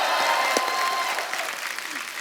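A studio audience at a comedy talk show claps loudly and steadily for Jitendra and Ekta, a dense wash of applause that tapers slightly toward the end.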